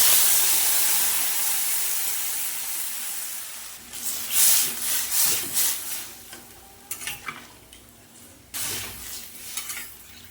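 Water going into a hot pan of stirred kachu (taro) stems, giving a steady steamy hiss with louder sizzling bursts near the middle and again toward the end, fairly close and with no voices.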